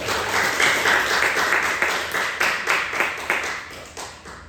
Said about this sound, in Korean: 우리 주일날 열심히 나오도록 한번 박수 한번 쳐주자고요.